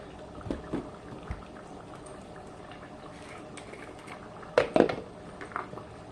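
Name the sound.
coney dog sauce simmering in a pot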